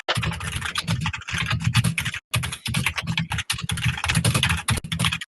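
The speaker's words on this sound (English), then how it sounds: "I'm just going to edit out his typing when I do it in post" Fast, steady typing on a computer keyboard: dense clattering keystrokes close to the microphone, broken by two short pauses, with no talking over it.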